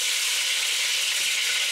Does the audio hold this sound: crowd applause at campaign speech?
no